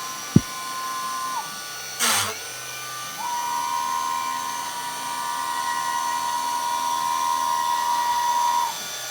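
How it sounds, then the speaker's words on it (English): A CNC router spindle cutting holes into a frame runs as a steady, whining drone near 1 kHz with a brief pause in the middle. A short sharp tap and a brief noisy burst come before it. "It's just much more efficient and reliable to do using the CNC router."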